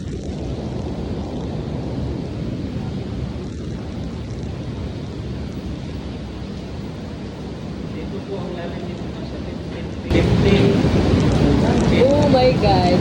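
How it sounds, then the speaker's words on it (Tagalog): Strong current of rain-swollen water rushing through the Jovellar underground river cave in Albay, a steady broadband roar heard from inside the cave that grows suddenly louder and nearer toward the end, with faint voices. "Medyo malakas nga yung agos ng tubig kasi malakas din yung ulan."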